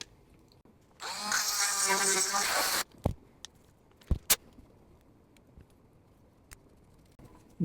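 A small drill bit bores into a brass RC axle part for an SCX24 crawler, giving a short high-pitched whine of about two seconds, close up, followed by a few light clicks and taps in a quiet room.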